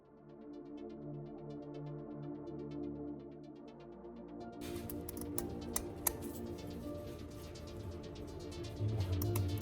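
Scissors snip through steel mesh being trimmed to fit inside a plastic opening, with a soft ticking texture early on, then a burst of crisp, irregular cutting clicks and rustles, faint and close, with no speech.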